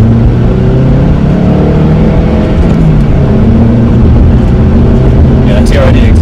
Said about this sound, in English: that TRD exhaust sounds pretty good